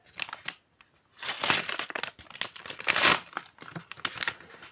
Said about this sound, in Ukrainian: Такий синьо-жовтий пакетик відкриваємо патріотичний.